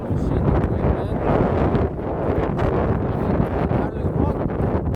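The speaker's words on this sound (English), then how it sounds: "I had such a strong wind, like right on my face" Strong wind gusts buffet the microphone on a hike along the Nordkalottleden trail, a loud, continuous rushing roar close up for several seconds before cutting off abruptly.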